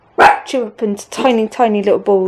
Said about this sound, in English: Excuse the dog, she's barking at something.